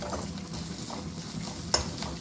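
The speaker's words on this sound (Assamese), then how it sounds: "এই মাছখিনি ভাজি হৈ গ'ল" Fish fry in hot oil in a home kitchen pan, a faint, continuous sizzle with soft stirring scrapes and one sharp clink partway through.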